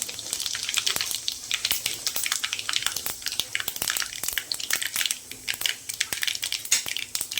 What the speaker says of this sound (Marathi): मोहरी उडली ना चांगली ती फोडणी छान बसते. जिरं घालूया.